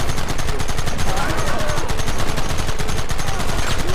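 Rapid, relentless gunfire in Red Dead Redemption, a loud, evenly pulsing stream of machine-gun shots filling the whole stretch, with shouting voices faintly beneath.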